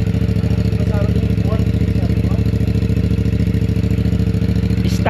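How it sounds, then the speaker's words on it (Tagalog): A CFMOTO 450CLC motorcycle idles steadily nearby with a constant low engine drone and exhaust throb, its muffler still fitted, while someone talks over it. "ganito tumunog itong CLC"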